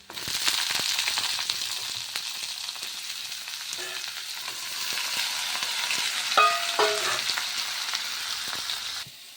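Potatoes sizzling in a pan with ginger for a Bengali potato fry, a steady close frying hiss with repeated scraping stirs and a few sharper clatters partway through.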